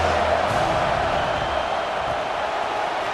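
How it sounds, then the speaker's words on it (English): A stadium crowd roars in the video game College Football 26, a dense, steady wash of cheering noise that holds at a loud level throughout, with no distinct voices rising above it. "3rd down and the crowd really getting into it."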